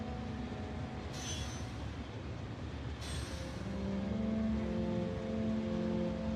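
A train in the modded factory-building game Factorio (Nullius) rolls in reverse with a steady rumble and rising wheel drone, broken by two brief high hissing bursts, heard alone without talk.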